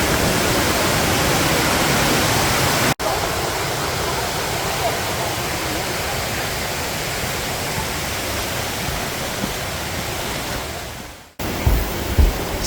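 A steady, roaring rush of falling water fills the whole clip, loud and close, from Sampoam waterfall pouring into a mountain stream valley.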